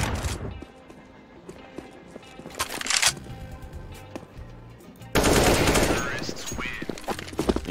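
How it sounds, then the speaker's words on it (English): Automatic rifle fire and sniper shots from an AWP and an AK-47 in a competitive first-person shooter match, rapid bursts repeating throughout, with a heavy loud barrage in the last few seconds and faint commentary voices underneath. "What hit them was bullets, the variety from the OP and also from the AK-47, the Kalashnikov."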